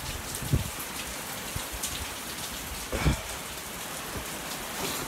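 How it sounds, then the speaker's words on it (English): Heavy rain pours steadily in a dense hiss, with a couple of louder splashes or thuds breaking through. "it's raining hard out there"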